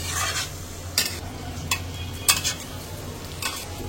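Meat stir-fried with fried onions for biryani in a pan, a steady sizzle broken by several sharp scrapes and clinks of a spoon stirring, close and moderately loud, with no talking.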